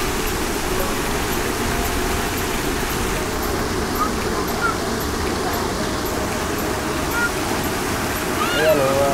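Water flowing steadily along Roxas Boulevard in Manila, a continuous broadband rush close by that holds level throughout, with faint traffic noise and scattered chirps behind it.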